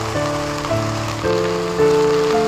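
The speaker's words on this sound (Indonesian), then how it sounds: "intensitas hujan terus meningkat." Heavy rain pours steadily over a flooded residential street in Aceh, a constant broadband hiss with a low tonal hum that shifts pitch in steps, and no talking.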